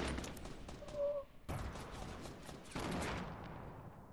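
Rapid gunfire bursts from a Fortnite match, dense crackling volleys that break off sharply and resume twice, with a brief tonal game cue in the middle and faint voices underneath.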